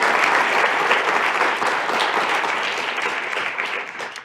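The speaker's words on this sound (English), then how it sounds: "let's give Frank a round of applause for having leadership and the vision to make that happen" Sustained audience applause fills a hall at a Chicago MLK Jr. oratory competition: dense, steady clapping from a large crowd, loud and close, tapering slightly toward the end.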